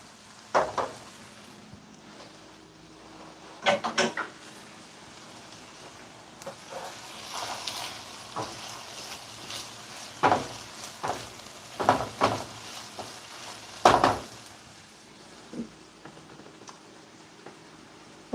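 A spoon scraping and stirring chopped food in a frying pan, with irregular clinks and scrapes against the pan over a faint continuous sizzle, some knocks louder and sharper than others.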